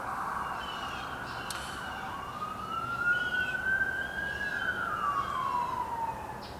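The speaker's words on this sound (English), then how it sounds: "Yeah, I hear those sirens. It sounds bad." A distant siren wails over steady background noise, its tone slowly rising and then falling in a long sweep.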